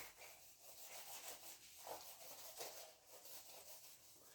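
Steady rubbing of writing off a board during a physics lecture on rigid body kinematics: continuous, faint scrubbing strokes in a quiet room with a repeating back-and-forth rhythm.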